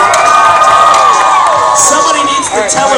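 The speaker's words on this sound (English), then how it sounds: "Come on, somebody scream out there for Jimmy Walker." A loud amusement park crowd at Kings Island screams and cheers for a BMX rider, with a dense sustained roar of shouting and whooping voices, many sounding young, close and continuous throughout.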